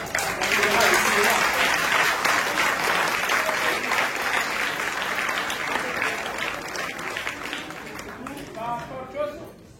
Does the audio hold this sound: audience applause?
yes